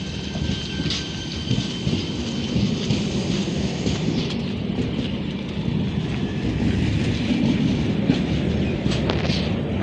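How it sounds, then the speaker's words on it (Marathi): The Konkan Kanya Express pulls away with a continuous heavy rumble and rattle that swells slightly over about ten seconds, with no talk. "निघाली ट्रेन."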